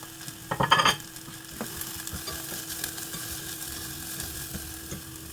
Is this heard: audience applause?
no